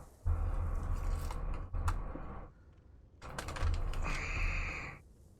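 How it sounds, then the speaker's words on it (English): A takeout bag crinkles and rustles in two loud, close bursts of crackling paper or plastic, separated by a brief quieter pause, with no voices. "So you can hear the funny bag doing the funny rustling."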